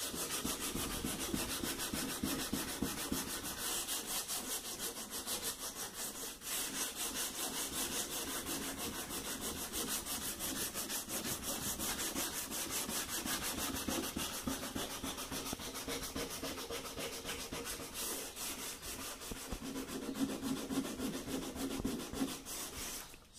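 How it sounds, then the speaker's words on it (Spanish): Continuous rhythmic scraping of hand sanding with water on a refrigerator, quick repeated rubbing strokes going on steadily without pause and no talking. "Acá vamos a lijar."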